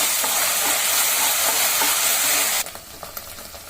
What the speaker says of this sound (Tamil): சேர்த்துட்டு இதை நல்லா வதக்கி விட்டுருங்க